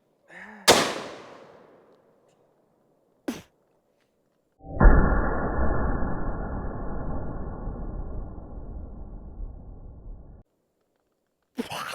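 Shots from a .500 Magnum revolver: a few sharp, loud bangs spaced seconds apart, with a long steady hissing spray between them.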